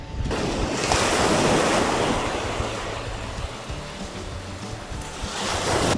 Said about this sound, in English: I love the way this rock had the waves crashing over it